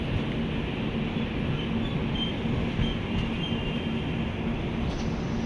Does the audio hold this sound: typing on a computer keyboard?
no